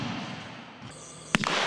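A single sharp, loud crack of a sniper rifle shot at a nighttime army sniper shooting contest rings out against a low background hum, followed by a brief echo.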